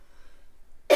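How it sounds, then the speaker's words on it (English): A single sharp cough bursts out at the very end after near silence, caused by a throat tickle while tasting spicy chutney-stuffed potato fritters. "I'm going to start coughing because I can feel that tickle in my throat."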